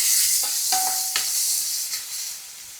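Chopped onion cooking in a pan for a school lunch box dish, a steady broad sizzle with a few soft stirring scrapes and one brief high utensil ring, close and alone without talk.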